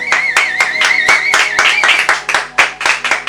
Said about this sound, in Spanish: Un aplauso a nuestros pastores.